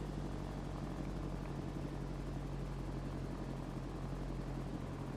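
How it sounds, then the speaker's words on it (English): Inside a small airplane over Hells Canyon, the engine drones loud and steady as the plane flies toward a landing, a constant propeller hum with no speech. "I'm going to try to land the airplane on the flattest most part"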